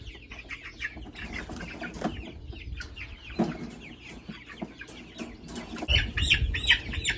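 Heritage breed meat chickens on pasture, a flock clucking and chattering nearby in short overlapping calls, with soft rustling and wing flaps between them and no talk.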